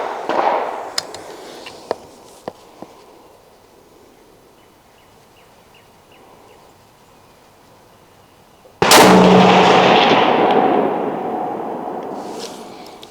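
Shots from a Smith and Wesson 1500 (Howa) .30-06 bolt-action rifle with steel targets downrange. Faint snaps and clicks come first, then one loud, sharp report with a long ringing decay. No voices.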